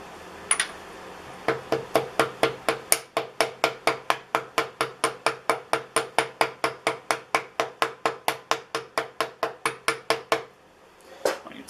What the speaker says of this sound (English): So I'm just going to lightly tap this in